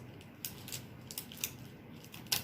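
Adhesive tape is pulled off a roll while a sandwich is being wrapped, giving a series of sharp, quick ripping bursts close by, spaced irregularly, with no talk.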